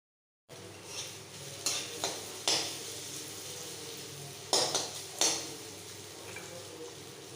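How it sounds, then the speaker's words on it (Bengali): Ginger and asafoetida stirred in a pan over low heat, a steady soft sizzle under a few scraping clinks of a spatula or spoon against the pan, close and alone without talk. "এটা আমি সিম আঁচে একটু নাড়াচাড়া করব।"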